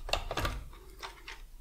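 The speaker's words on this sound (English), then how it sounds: "Let's take the lid off." Plastic clicks and a soft clunk as the lid of a 1980s IBM Wheelwriter 6 electronic typewriter is unclipped and lifted off, a short burst of close, quiet handling noises.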